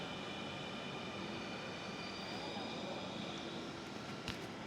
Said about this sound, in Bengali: দেখছেন এটাই হচ্ছে মেট্রো রেল